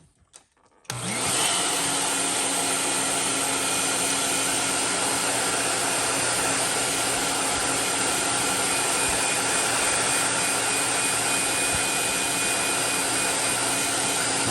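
A heat gun roars steadily for several seconds, setting fresh paint on a hand-painted Psychedelic Shad fishing lure, a Raid Big Vibe crankbait; it kicks on after a short quiet start and stays loud and constant, with no talking.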